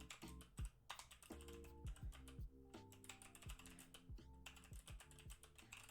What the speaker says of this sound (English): I'm typing in right now